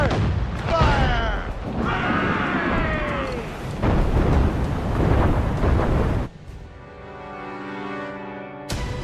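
Ship cannons firing in naval combat in Assassin's Creed Rogue, heavy booms and rumbling blasts rolling continuously under shouted voices and game sound, easing into a quieter tonal stretch near the end.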